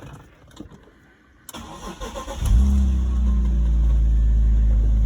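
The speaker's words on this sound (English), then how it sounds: "We're gonna go ahead and fire it up from cold start." A 2004 BMW 330i ZHP with no vacuum leaks fires up from a cold start: a brief cranking churn, then the engine catches loudly and settles into a steady, smooth idle close by.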